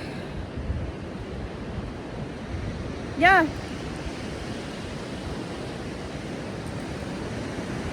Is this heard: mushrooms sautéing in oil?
no